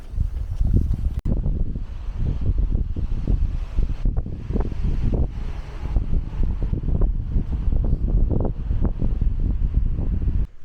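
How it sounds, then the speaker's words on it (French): Strong cold wind in a snowy place roars and buffets the microphone in continuous low gusts, loud and close, with no talking. "Il fait froid, il y a beaucoup de vent, il y a de la neige"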